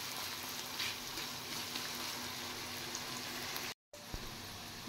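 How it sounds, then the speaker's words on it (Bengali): Thinly sliced onions fry in oil with a steady, faint crackling sizzle, broken by a brief silent gap near the end and no voices. "পেঁয়াজটা একদম সরু করে পাতলা করে কাটা হয়েছে, তাড়াতাড়ি ফ্রাই হয়ে যাবে।"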